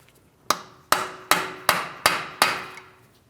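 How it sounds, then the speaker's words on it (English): Six sharp metallic hammer strikes on a punch against a Chevrolet Malibu front axle, freeing it from the wheel bearing hub, evenly spaced about every half second, each ringing briefly before the next blow. "We're going to start tapping on this to break the axle free from our wheel bearing hub"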